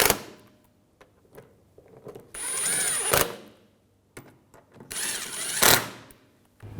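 Power tool tightening the rear radiator bolts on a 2011-2018 Volkswagen Jetta 2.0L, heard as two close, sharp whirring bursts of a couple of seconds each, separated by quieter handling clatter.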